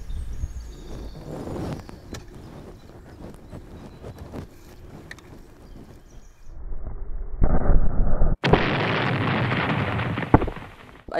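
Explosion set off during a material resistance test in a live exercise. Rumbling, gunfire-like blasts build, then a loud sharp burst is followed by a sustained roaring noise.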